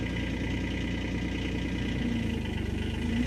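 A 2025 Kubota SCL1000 compact loader engine idles steadily, a low, even diesel rumble with a slight shift in tone partway through, fairly close and without speech.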